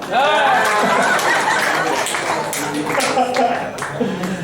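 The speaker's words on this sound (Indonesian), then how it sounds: "Tepuk tangan buat Pak Peter Gonta." At a book launch and talk event, an audience claps for Peter Gonta, scattered applause mixed with chatter and light laughter, with people talking over it.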